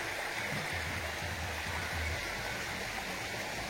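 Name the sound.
stream water flowing through forest near Machakandana waterfall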